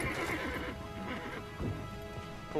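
A horse in Assassin's Creed Brotherhood whinnies loudly, its neigh rising and falling over faint hoof clops and background game sounds.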